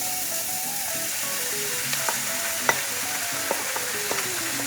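Onions and garlic sauté in a pan for a rustic Italian chickpea loaf, giving a constant close sizzle broken by occasional light clicks and scrapes from stirring. No voices are heard.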